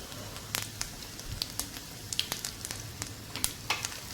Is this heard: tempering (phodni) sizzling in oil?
yes